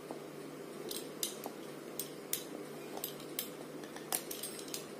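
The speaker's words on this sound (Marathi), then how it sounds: "मी इथे स्क्वेअर शेप मध्ये कट करणार आहे." Knife cutting rolled jaggery and wheat-flour dough into squares for shankarpali, a run of light, crisp clicks and taps on the board at an uneven pace, quiet and close, with no speech.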